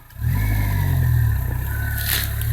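An off-road rally vehicle's engine starts up and revs loudly at the start line, a close, sustained throaty roar that holds and wavers slightly, no voices.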